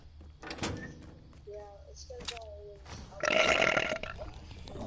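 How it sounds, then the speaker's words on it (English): A person lets out a loud wet burp, a drawn-out guttural belch that rises and sputters, with a few other sounds around it during an online Fortnite squad session. "That burp."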